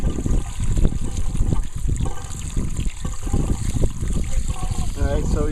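Water gushing and gurgling out of a pool filter as a pool is closed for the season, a continuous loud rushing with bubbly gurgles, and a person talking over it.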